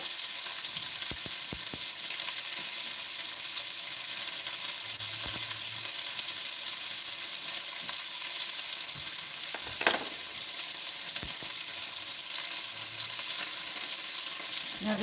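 Beef pieces browning in a stew pot sizzle steadily and loudly throughout, with occasional scrapes and taps of a spoon stirring the meat.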